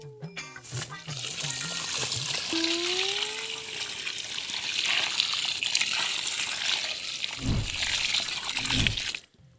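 A bucket of water is poured onto freshly planted banana, a loud continuous gushing splash close by, preceded by a few faint clinks and ending with a couple of heavier splashes before stopping.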